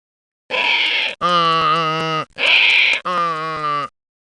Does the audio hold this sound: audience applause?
no